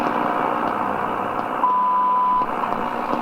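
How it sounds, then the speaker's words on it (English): A minute time-signal beep received on 5 MHz shortwave radio through a vertical antenna, one steady tone of just under a second sitting faintly under constant loud static hiss. "I could hear the beep on the minute"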